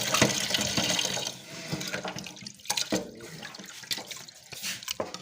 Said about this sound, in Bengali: মসুরগুলো একটু ভালোভাবে ধুয়ে নিই